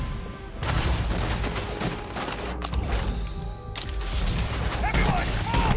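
Heavy gunfire and blasts in Starfield keep up a dense, loud barrage of shots and booms, with voices shouting now and then over the din.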